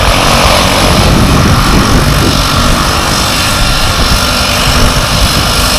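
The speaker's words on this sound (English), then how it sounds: "I'm not just going to watch it land, I'm going to watch it take off as well, and so are you. Twin otter from Logan Air." Loud, close roar of a Loganair Twin Otter propeller aircraft on the beach at Barra, engines droning steadily throughout.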